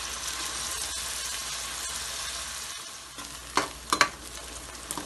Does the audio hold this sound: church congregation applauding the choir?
no